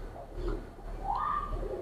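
A female Chinese Teddy pigeon gives a soft, low coo close by, a short burst of murmuring tones in a quiet setting.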